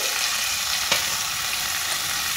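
Semolina and potato bites frying in a hot pan, a steady close-up sizzle with one brief louder crackle partway through and no talking.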